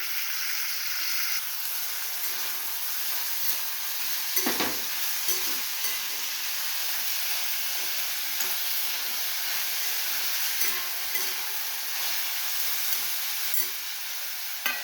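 Onions, tomatoes, garlic and cashews cook in a pan with a steady, bright sizzle and hiss, a few soft knocks of a utensil breaking through now and then.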